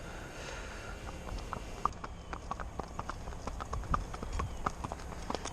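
An appendix bred mare, thoroughbred on the bottom side, clip-clopping at a steady walk, a regular rhythm of moderately close hoof strikes over a low background hum with no talking.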